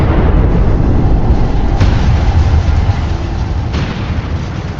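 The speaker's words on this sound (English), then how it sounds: "That leads to an exponential increase in heat energy in a fraction of a second, the recipe for an explosion the size of this." A nuclear fission bomb explosion roars as a loud, sustained deep rumble, with a sharp crack partway through before the blast slowly tapers.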